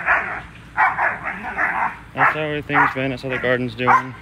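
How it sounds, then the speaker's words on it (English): Dogs at a home garden barking in a rapid series of sharp, loud barks close by, following a stretch where someone talks. "Sorry the dogs are so loud."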